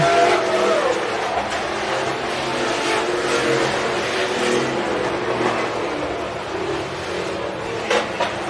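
IMCA Hobby Stock race cars on a dirt track at Estevan Motor Speedway, a steady wash of distant engine roar and crowd-like noise holding level throughout.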